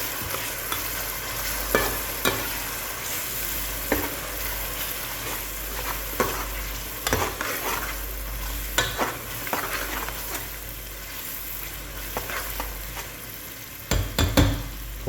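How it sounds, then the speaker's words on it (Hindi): Onions frying with chopped ginger, garlic and green chili sizzle steadily in a pot while a spoon stirs them, scraping and knocking in irregular strokes close by, without any talk. "इस पोजीशन में आके आपने इसमें अदरक, लहसुन और हरी मिर्च चॉप की भी आपने ऐड कर देनी है और अच्छी तरह से मिक्स कर देना"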